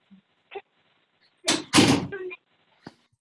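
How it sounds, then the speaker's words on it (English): A room door swinging shut, heard as a couple of loud thuds and a rattle close by in a quiet home, with a few small knocks before and after. "let me close my door because my dog's gonna freak"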